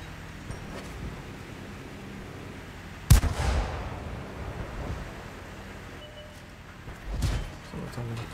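A Skoda tank cannon in World of Tanks fires once, a sharp loud boom with a rumbling tail, then a second duller blast follows several seconds later over steady battle ambience.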